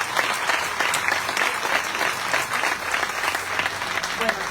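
Audience at a reading of the proclamation for the Nuestra Señora de Las Nieves festivities breaks into steady, dense applause that holds loud and even throughout.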